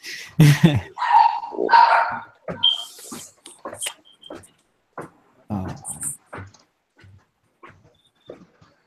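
A dog barks in short bursts near the start and then more faintly and sporadically, with someone talking through much of it.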